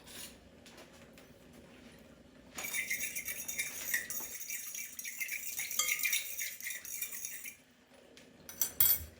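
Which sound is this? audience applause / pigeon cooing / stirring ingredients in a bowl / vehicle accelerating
stirring ingredients in a bowl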